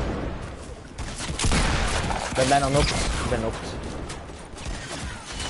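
Rapid bursts of video game gunfire crackle through an online shooter match, mixed with excited talk from players over the shots.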